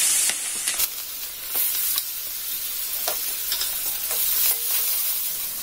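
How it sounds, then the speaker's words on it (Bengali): Sliced onions frying in oil left over from frying hilsa fish, a continuous loud sizzle broken by repeated scraping strokes of a spatula stirring the pan, with no voices. "এখানে আমি এই মাছ ভাজার তেলের মধ্যে পেঁয়াজ দিয়ে দিলাম"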